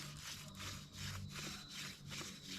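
A wooden hand drill spindle is worked back and forth, burning a spot into a wooden board to make an ember, with corn husks nearby; rhythmic rubbing strokes repeat about every half second, close and steady.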